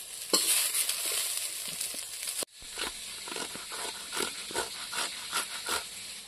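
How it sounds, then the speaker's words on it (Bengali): Fried potatoes being stirred in a hot pan and lifted out, with a steady sizzle of frying oil broken by scraping stirs, a sharp pause midway, then repeated spatula scrapes and clinks close by. "আলুটা ভাজা হয়ে গেছে, আমি এখন নামিয়ে নেব।"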